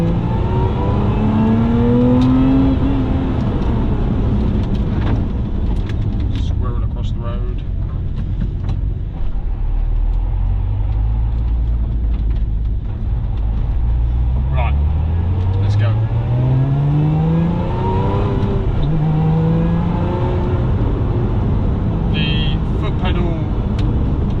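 A V6 sports car drives a narrow single-track country road, its engine note swelling and easing in repeated rising sweeps as it accelerates and lifts off, with someone talking over it nearly throughout.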